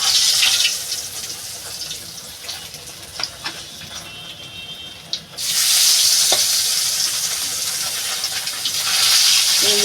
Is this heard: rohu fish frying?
yes